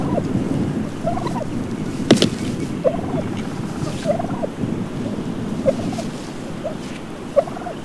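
A wild turkey tom gobbles repeatedly in a played-back field recording, several rolling calls spaced a second or so apart, moderately distant, over steady wind noise with a few sharp knocks.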